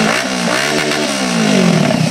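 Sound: Japanese heavy motorcycle engine roaring

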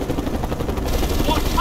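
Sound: enemy helicopter in the video game Mercenaries 2

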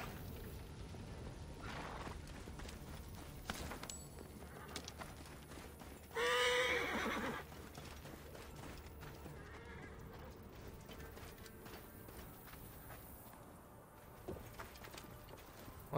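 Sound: horse neighing and hooves in video game Assassin's Creed Origins

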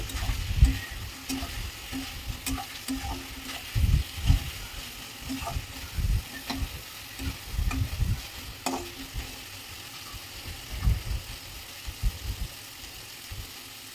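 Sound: rui fish frying in spiced oil

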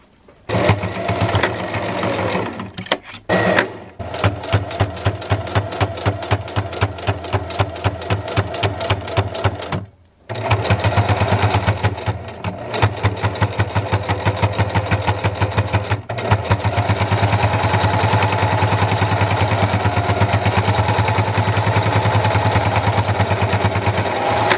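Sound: sewing machine stitching fabric

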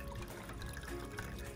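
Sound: filtered water filling a LetPot hydroponics tank

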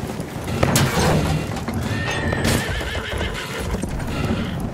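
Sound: horse neighing in the video game Battlefield 1

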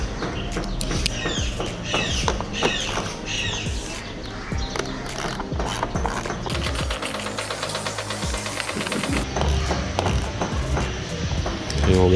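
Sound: wrench tightening motorcycle battery terminal nut with 10mm socket

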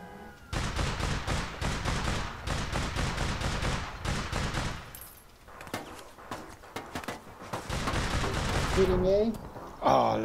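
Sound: shotgun fire in the video game APB Reloaded

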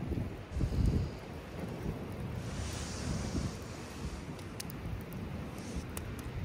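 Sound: wind blowing at a forest hut

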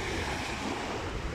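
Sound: sea waves at Halıdere beach, Marmara Sea

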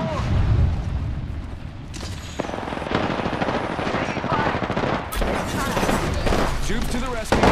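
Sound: grenade explosion in a video game

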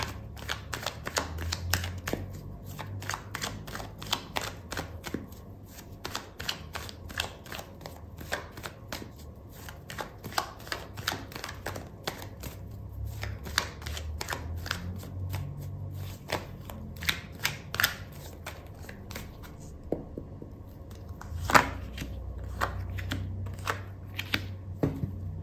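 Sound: shuffling tarot cards

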